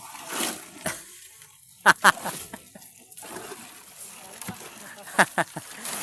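Wet concrete is poured into a post column on a construction site, heard as scattered sloppy splashes and splatters in short bursts, with workers' voices in the background.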